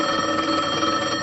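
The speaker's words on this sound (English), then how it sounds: "Phone." A telephone rings in a steady, continuous electric bell trill that fills the moment with no voices over it, in a sitcom office scene.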